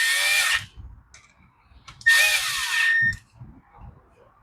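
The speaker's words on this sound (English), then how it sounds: "We'll grab our T25 and tighten her down a little." A power driver with a T25 Torx bit tightens a carburetor screw on an Echo SRM 225 string trimmer, whirring loudly in two short close bursts with quiet handling sounds between them.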